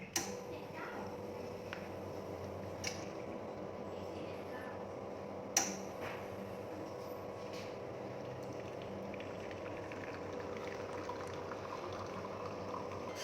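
Steady hiss and trickle of hot water flowing from the group head of a La Marzocco Linea PB espresso machine, continuous and fairly quiet, broken by a few faint clicks.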